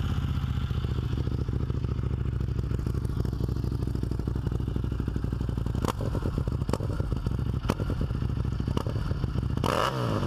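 A Buell 1125R motorcycle engine, now sounding different than before, runs steadily and loud with a deep rapid throb, clattering mechanical noise and sharp rev blips near the end, no talking.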